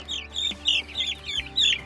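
Meat chickens cluck inside a chicken tractor on pasture, a series of close, repeated clucks in quick uneven bursts with no talking.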